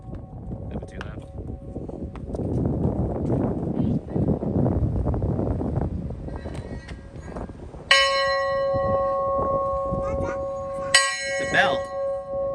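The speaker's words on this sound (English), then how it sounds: "It's a bell." A bell rings at a railroad museum, several loud clanging strokes with long ringing tones, heard after a stretch of wind and handling noise, with people talking nearby.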